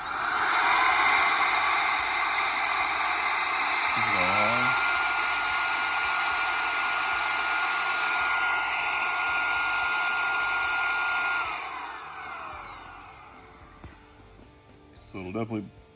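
A SAKER 3-in-1 vacuum cleaner runs loud and steady with a high whine for about eleven seconds, then winds down and cuts off, followed by a few faint handling noises.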